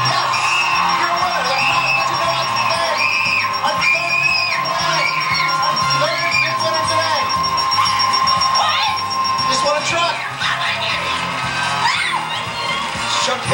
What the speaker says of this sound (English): The crowd boos you.